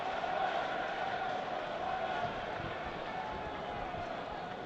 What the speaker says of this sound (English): The crowd doing their best to try and instill some fervour into the game.